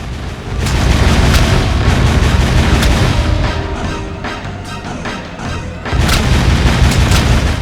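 Loud, dense explosions from shooting in the Jak II video game fill the clip, with a brief dip in the middle before the heavy booming returns.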